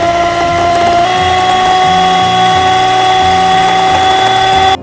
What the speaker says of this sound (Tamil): பீட்டரில் வந்து பீட் பண்ணி எடுத்துருக்கேன்